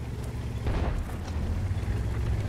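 A World of Tanks artillery shell slams into an E 50 tank, a dull booming impact over a continuous low engine rumble, heard alone without talk.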